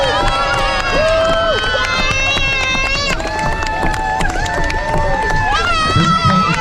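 A crowd of kids and families at an outdoor cycle stunt show in Aberdeen shouts and cheers, a dense, loud wall of voices with high-pitched squeals running continuously throughout.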